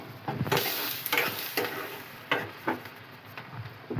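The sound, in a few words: mango pieces frying in tempering oil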